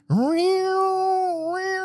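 A voice imitates a school siren with one long, loud, rising-then-steady wail that sounds like a yowling cat, held for nearly two seconds.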